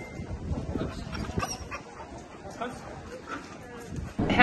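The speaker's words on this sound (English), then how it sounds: "look at that little sausage dog there" A small dachshund whimpers and yips outdoors, soft high whines scattered through continuous chatter from several people nearby, with a louder burst at the end.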